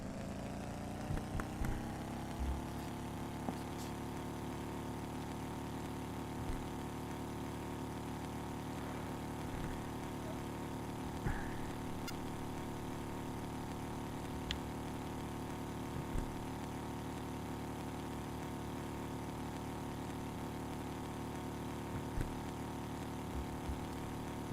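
A motorboat engine runs in the fishing game Russian Fishing 4, a steady droning hum that holds level throughout with a few faint clicks and no talk.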